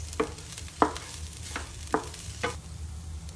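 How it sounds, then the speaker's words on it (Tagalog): Onion browning in a pan for spaghetti sauce, heard as a soft steady sizzle with about five sharp scrapes of a spatula stirring at regular intervals. No voices. "kailangan ipa-brown ko muna yung aking sibuyas."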